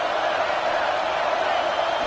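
Stadium crowd in a college football video game, LSU matchup, roaring in a steady loud wash of cheering with no breaks, broad and sustained throughout.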